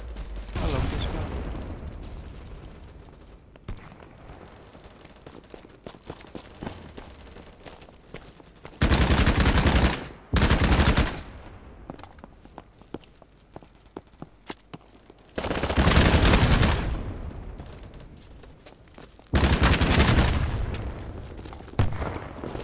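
Gun bursts in BattleBit Remastered, loud sustained automatic volleys in several separate strings with quieter stretches of distant shots and game ambience between them.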